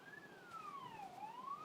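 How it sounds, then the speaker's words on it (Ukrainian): An ambulance siren passes outside, a faint, distant wailing tone sweeping slowly down and back up in pitch over a quiet indoor background. "Швидка їде і пілікає, щоб вам не було чого."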